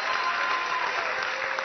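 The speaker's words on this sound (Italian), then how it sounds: "il pubblico è felice, applaude in maniera copiosa" A casino show audience in Las Vegas applauding heartily, a thick, continuous roar of clapping hands at close range that holds steady throughout.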